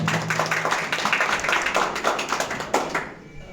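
Audience applause at a de-addiction birthday and HIV/AIDS awareness event in India, a dense burst of many hands clapping close by, loud and sustained before tapering off abruptly.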